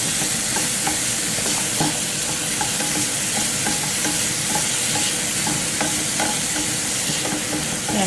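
Macaroni cheese ingredients fry in a pan while being stirred, a steady close sizzle broken by repeated scraping clicks of the utensil, with no talking.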